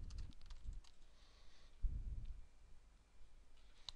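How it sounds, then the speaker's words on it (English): A short burst of keyboard typing into a WordPress plugin search box, a few scattered key taps alone and fairly faint, with low room thumps in between. "So on Search Plugins, type in Contact Form 7."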